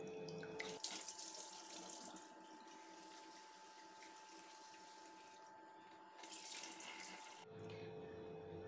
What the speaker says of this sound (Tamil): நம்ம பாருங்கள் நான் அவுள் கழுவிட்டு இருக்கிறேன்